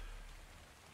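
Steady rain hisses in the video game ARK, a faint, even wash of falling drops with no voices over it.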